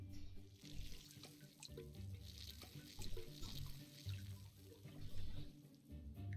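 Water splashing from a watering can onto planted flowers in the Desperate Housewives video game, a steady running pour with light drips, mixed with game background music and ambience at a moderate level.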